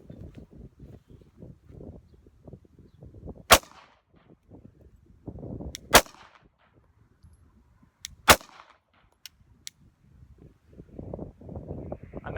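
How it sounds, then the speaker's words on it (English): Three sharp pistol shots ring out, evenly spaced several seconds apart, each a loud isolated crack standing out over low background rumble and muffled handling noise. "I'm going to slow down at first and do 3-shot cadences"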